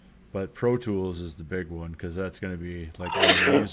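A single sharp sneeze bursts out at the end, right after a stretch of casual speech.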